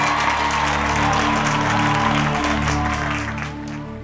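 Sustained audience applause at a live stage concert as a singer is welcomed back, dense and loud throughout with a crowd hum beneath and a steady low tone, easing slightly near the end.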